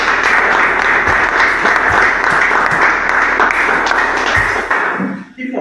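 A live audience claps in a dense, steady wash of applause that runs for several seconds before tapering off at the end.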